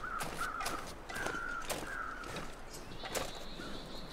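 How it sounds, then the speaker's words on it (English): Crows cawing in the winter survival game The Long Dark, several harsh, distinct caws spaced across the moment, moderately near over a steady windy background. "Oh, where are these crows going?"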